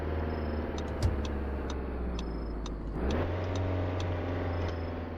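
Lamborghini Temerario supercar engine in the driving game Driving Empire, a steady loud drone that swells partway through, with faint ticking clicks on top and no talking.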